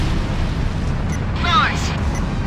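A bomb bursts on a huge bridge while an enemy tank is hit in the Ace Combat Infinity video game, heard as a dense, sustained low boom and rumble with brief chirping effects layered over it.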